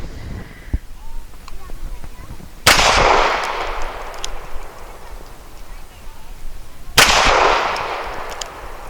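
Two sharp reports from an Arsenal Firearms Strike One pistol firing 115 grain aluminum-cased rounds, each a loud crack with a long echoing decay, spaced about four seconds apart over a steady background hiss.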